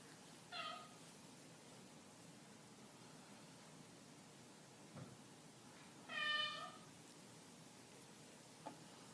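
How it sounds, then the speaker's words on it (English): A house cat meows twice in the background, short and faint, over a steady hiss with a couple of soft knocks between the calls. "Everybody hear our cat in the background?"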